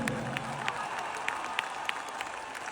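Audience applause at a concert during a marriage proposal, a dense wash of clapping and crowd noise with a few sharper claps standing out, steady and fairly distant.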